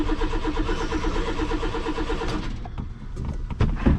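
An old abandoned car's engine cranks steadily as someone tries to start it, a loud pulsing churn that lasts about two and a half seconds before breaking off into scattered knocks and clicks.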